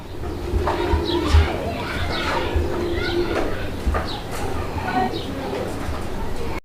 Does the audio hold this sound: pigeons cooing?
yes